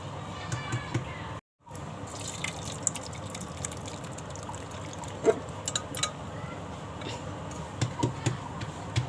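Cooked dal draining through a sieve, its cooking water trickling and dripping steadily into a vessel below, faint and close, with scattered small drips and a brief silent gap early on.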